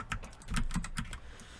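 Computer keyboard keys are pressed with mouse clicks while working in Blender, a quick irregular series of close, crisp taps and clicks.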